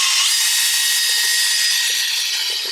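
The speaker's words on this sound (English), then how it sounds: "Then I've got my combi drill with a little mixing pad at the end." A combi drill with a mixing paddle whirs continuously at high speed, steady and close, with a faint scraping churn of thick skim-coat plaster mix in a bucket underneath.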